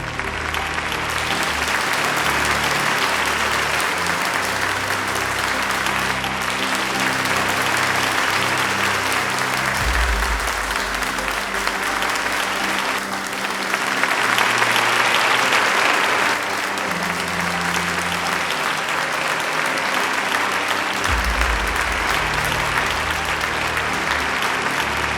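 A large crowd gives a loud, sustained ovation and applause for Mexican President Díaz Ordaz, a dense roar of clapping that continues unbroken, swelling briefly in the middle, with low rumbling underneath.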